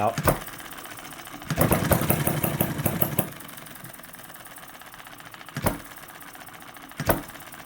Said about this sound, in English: see how that one runs. This one obviously is a hit and miss and a throttler.